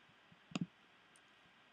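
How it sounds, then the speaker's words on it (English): A computer mouse clicks faintly in a quiet room, with a quick double click followed by a single click moments later. "I can click there."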